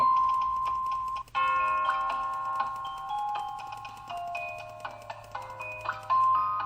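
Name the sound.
Scratch sound panned to the left side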